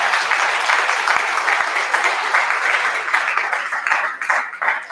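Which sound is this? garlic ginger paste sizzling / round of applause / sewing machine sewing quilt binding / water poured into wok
round of applause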